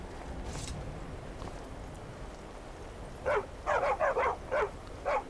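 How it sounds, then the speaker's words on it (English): A dog in the video game Skyrim barks in a quick run of short, sharp yips near the end, over a faint, quiet background. "It's a dog?"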